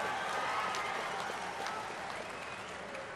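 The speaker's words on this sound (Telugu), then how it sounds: "కార్యకర్తలందరూ కూడా చప్పట్లతోనే కేసీఆర్ గుండెలు బలగొట్టాలి." Party workers at a political speech break into applause, a continuous wash of many hands clapping together that holds steady and fairly soft throughout.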